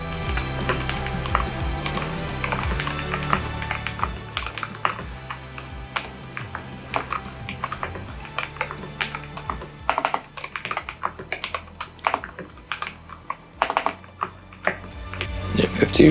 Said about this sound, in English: Really nice responsive keyboard, by the way. Actually, it's, yeah, I mean, mechanical keys are great, but magnetic even better.